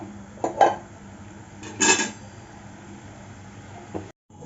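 A pan of sugar syrup for a Bengali palm-fruit malpua sweet being lifted off the stove, with two distinct metallic clanks of the pot and quieter scraping in between.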